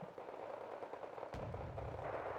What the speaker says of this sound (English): maybe I can just shoot them with the 4HE power